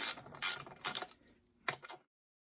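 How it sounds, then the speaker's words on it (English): A ratchet with a 10mm socket clicks while bolting down the front fender of a 1972 Honda CL350, a few quick close bursts of clicking separated by short gaps, then silence. "Let's grab a 10mm socket and a ratchet and let's bolt her down."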